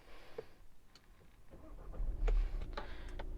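A Skoda Kodiaq engine cranks and catches with a low rumble, preceded by a few faint clicks and whirs inside a quiet cabin.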